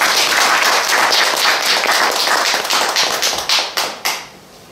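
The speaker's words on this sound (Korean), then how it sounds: "박수로 모시겠습니다." An audience at a traditional Korean music recital in a small theater claps loudly and densely, then the applause thins into a few last scattered claps and fades.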